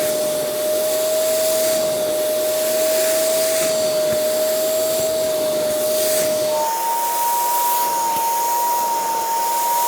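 Kenmore SpotLite spot cleaner working a stain on carpet, a steady loud motor whine with suction hiss running throughout, shifting up in pitch partway through.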